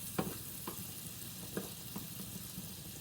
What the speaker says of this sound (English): I'm going to allow that onion and garlic to cook a little bit until they are both tender in that butter.